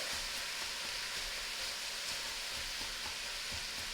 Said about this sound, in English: we're going to let the vegetables cook in the middle